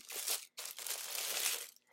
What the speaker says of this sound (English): So I'll take it out of the plastic bag.